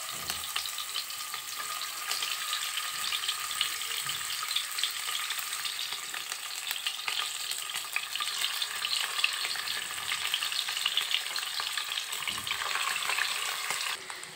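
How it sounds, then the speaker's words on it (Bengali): Diamond-shaped pieces of egg fry in hot oil in a wok, a continuous dense crackling sizzle that holds steady and fairly close for the whole stretch, with no voices. "এবারে এতে আমি বরফির আকারে কাটা পিস ডিমগুলোকে একটু ভেজে নেব।"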